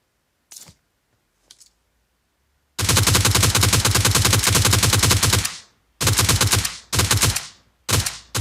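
Gunfire on the Karakin map in PUBG Mobile: two single shots, then a long, loud automatic burst lasting nearly three seconds, followed by three shorter bursts in quick succession.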